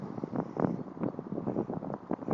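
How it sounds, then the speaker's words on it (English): Gusty wind buffets the microphone outdoors during a drone flight, a steady rumbling roar that swells and dips in uneven pulses throughout. "It's getting a little bit windy out here today"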